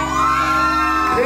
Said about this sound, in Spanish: Todos gritando que lo abra.